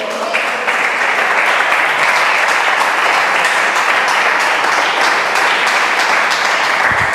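Church congregation applauding, a loud, sustained burst of many hands clapping steadily at close range with no talk over it.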